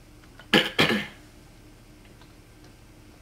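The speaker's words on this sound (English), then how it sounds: "If I cough a lot, I do apologize" Two quick coughs close together, fairly loud against a quiet background, then near silence.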